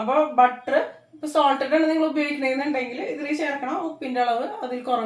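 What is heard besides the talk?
No everyday noise stands out behind the speech.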